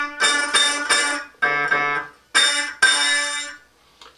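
A homemade diddley bow string plucked at the octave point halfway between its two bolts rings out in a few bright, twangy notes, each decaying before the next pluck, close and clear.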